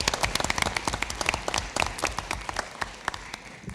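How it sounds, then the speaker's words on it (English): A round of applause for dance company students at a school board meeting, a modest group clapping briskly with distinct individual claps, moderately loud and continuous for a few seconds. "let's hear another big round of applause for our dance company students"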